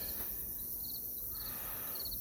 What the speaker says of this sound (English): Of course, crickets are crickets. We know what they sound like.